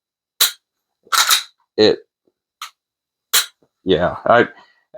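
A Ruger RXM pistol is dry fired, its trigger giving several crisp, sharp clicks at uneven intervals, close up, with brief bits of speech between them.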